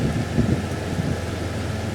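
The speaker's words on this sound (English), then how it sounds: "I'm going to head back to the farm and wait this rain out." Steady rain with a low, rumbling thunder-like undertone in a farming video game, an even continuous wash of noise with no talking.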